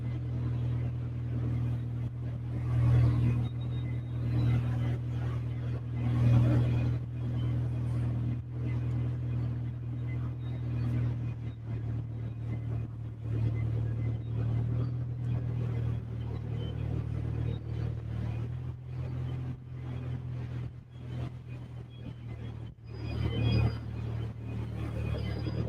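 An old vehicle's fruity exhaust rumbles steadily at a container port, a low continuous drone lasting throughout with a couple of louder swells, fairly close and with no clear talk over it.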